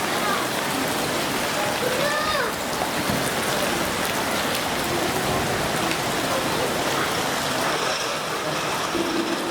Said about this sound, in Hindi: हाथ भर की बारिश है।